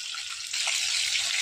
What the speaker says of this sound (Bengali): দেখেন মাছ তেলটা ফুটছে কিরাম